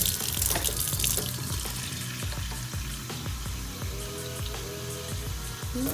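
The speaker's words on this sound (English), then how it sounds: "Now let's get our 1 cup of water." Water runs steadily from a tap into a measuring cup, a continuous close hiss and splash with small bubbling changes as it fills.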